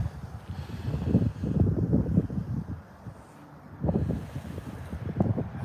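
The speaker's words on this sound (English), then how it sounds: "Very windy out." Gusty wind buffets the microphone on a cold, snowy day at a park, rising in rough low rumbling surges with a brief lull midway, loud and close throughout.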